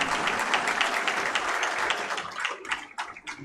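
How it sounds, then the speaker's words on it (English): A crowd applauds at a university convocation ceremony in Akurdi, Pune, India. The clapping is dense and sustained, then thins into scattered individual claps as it dies down. "Please huge round of applause for Jui."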